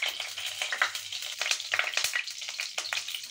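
Cumin seeds and garlic crackle and sizzle in hot oil for tempering saag, with busy, irregular popping and a soft, steady hiss close by.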